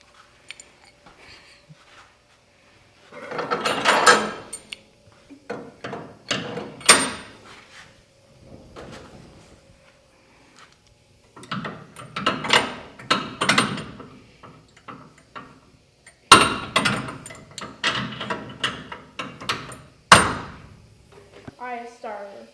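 Mechanical parts being bolted onto a patina truck's engine bay with hand tools, heard as bursts of metallic clanks, ratcheting and knocks close by, broken up by quiet gaps.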